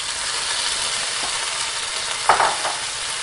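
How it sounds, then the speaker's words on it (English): Zereshk berries sizzle and fry in hot canola oil over medium heat, a steady close hiss with a brief louder crackle burst near the end. "Add the mulberry. It will sizzle."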